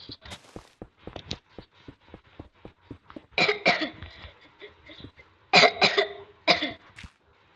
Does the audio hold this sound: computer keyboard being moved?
no